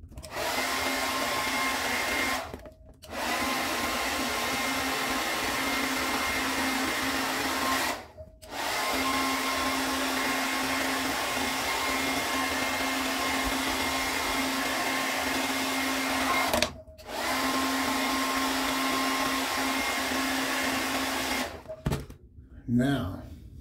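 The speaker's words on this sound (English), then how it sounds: "I'm gonna go ahead and blow dry back through it one more time." A hair dryer blow-drying a big beard during a trim, a loud, steady whirring hum that runs continuously and cuts off briefly three or four times before starting again.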